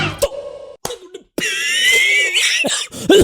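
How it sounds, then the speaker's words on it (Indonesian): A few sharp, close coughs from a man with a month-long cough, separated by short pauses and ending in a rough throat sound. "Ini batuk emang ada obatnya apa ya?"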